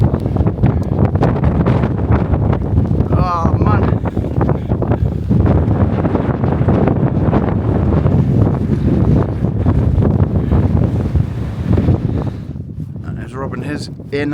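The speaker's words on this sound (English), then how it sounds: "It's dead windy up here" Strong mountain wind buffets the microphone high on a fell in the Lake District, a loud continuous roar with gusting surges throughout, and voices speak briefly beneath it.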